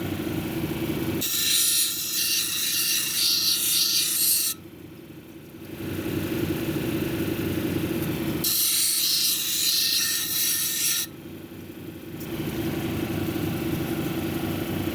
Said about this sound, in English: I got to grind out this low spot right here